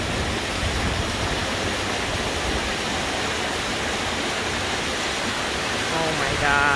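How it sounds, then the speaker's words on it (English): A rain-swollen waterfall in the desert near Palm Springs and Joshua Tree roars up close, a loud, steady, broadband rush of pounding water that fills the whole scene without pause. "Can you hear me over how fucking loud this water is?"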